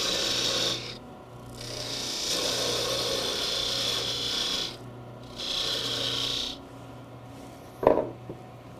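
A wood lathe turns a Christmas ornament while a parting tool rasps against the spinning wood in three sustained cutting passes separated by short pauses, ending with a sharp knock.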